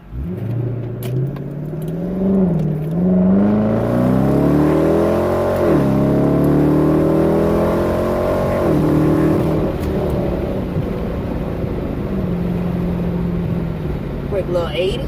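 A car fitted with a Roar throttle pedal controller set to race mode accelerates hard toward 80, its loud engine note climbing steadily, dropping briefly at gear shifts, then rising again, close and continuous throughout.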